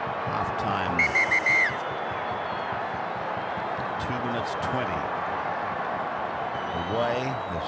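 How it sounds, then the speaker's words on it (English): A referee's whistle at a rugby league preliminary final between Penrith Panthers and the Warriors, a short trilling burst of several quick blasts over a constant stadium crowd roar, with a commentator talking before and after. "Mander's whistle indicates time off again."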